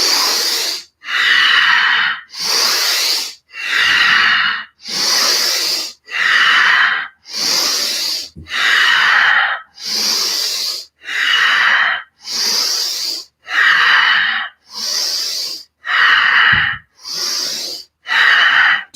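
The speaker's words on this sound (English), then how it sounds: "Take a deep breath and hold it, and then do a really delayed exhale like you're blowing through a tiny straw" Forceful deep breathing exercise, repeated about fifteen times in a steady rhythm, each breath a loud, close, airy rush of inhale and exhale, with hard pushed exhales as if through a tiny straw and brief gaps between them, no talking.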